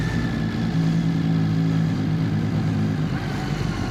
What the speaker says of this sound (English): This is why you get a motorbike and not a car.